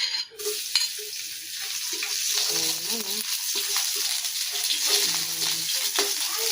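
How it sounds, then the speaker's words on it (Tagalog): Garlic sautéing in a small amount of oil for a vegetable pinakbet, a steady close sizzle with intermittent stirring clatter, no talking. "Magigisa tayo ng bawang."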